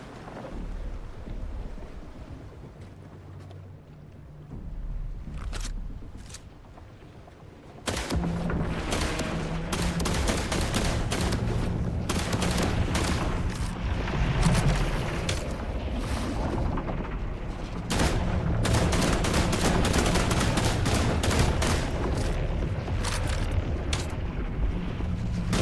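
Gunfire from a weapon in the survival game The Last Caretaker, a dense run of sharp shots that starts after a quieter stretch and keeps going loud and steady under a heavy rumbling backdrop.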